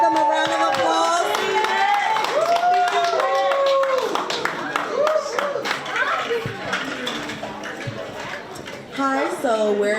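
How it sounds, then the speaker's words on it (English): At a South Ward literacy town hall, an audience claps for two University High School seniors coming up; steady clapping runs for about ten seconds under overlapping voices and chatter. "Give them a round of applause."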